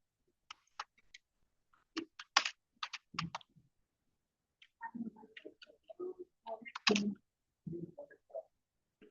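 Someone types on a computer keyboard in short bursts of quick, light key clicks with pauses between them. The sound is close and quiet with no talking.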